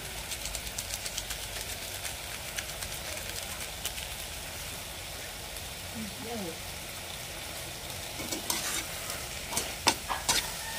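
Eggplant sautéed and stirred in a pan: a steady sizzle runs underneath repeated scraping stirs, with sharper clatters near the end.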